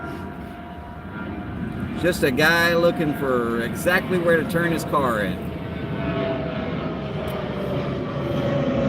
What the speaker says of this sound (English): Third plane in 5 minutes.